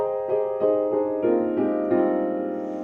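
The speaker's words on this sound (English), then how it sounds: "So if I left the pedal down, it would sound like this" Piano chords played in a steady sequence with the sustain pedal held down, each ringing on and blending into the next, producing a continuous, washed sustain with no silence between.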